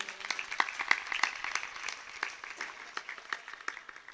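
A live audience at a Shrimad Bhagwat Katha gathering claps in a fairly quiet, steady patter of many overlapping hands, with no voices over it.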